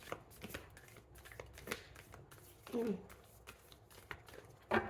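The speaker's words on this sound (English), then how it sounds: "The shuffle was like extra smooth" Soft tarot card shuffling with quick riffles and taps close by, while a person talks briefly over the sound.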